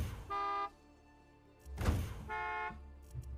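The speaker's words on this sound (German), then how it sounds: "Wir haben eine neue Hupe." The standard car horn in the video game Far Cry 6 sounds twice, two short flat honks about two seconds apart, loud and close, with engine rumble between them.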